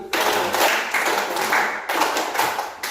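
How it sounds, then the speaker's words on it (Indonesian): A group of people in a school training session claps in counted bursts, several sharp rhythmic volleys separated by short pauses, loud and close. "Tepuk tangan semua. Ya, tepuk 3 kali. Tepuk 6 kali."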